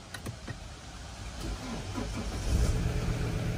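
The electronic parking brake motor on a 2008 Volvo V70 runs after a reset, a low mechanical whirr that builds gradually and grows louder toward the end, preceded by a few light clicks, with no voices.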